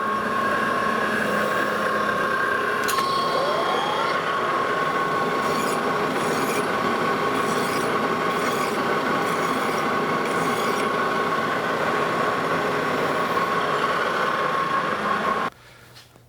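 Steady grinding rasp of a new Victor safe dial being machined on its back side, a continuous loud metallic scraping with a faint squeal, running for several seconds before cutting off abruptly.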